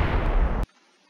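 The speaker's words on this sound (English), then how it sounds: "I like the sound. The cannon looks good." Tank cannon firing in a WW2 eastern front mod for a video game: a single loud, booming blast lasting over half a second, then cut off abruptly into near silence.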